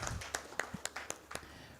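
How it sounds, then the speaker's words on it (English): Scattered, quiet hand claps from an audience at a media investment summit conference, about seven sharp separate claps spread unevenly over a moment rather than a full, dense round of applause. "big round of applause"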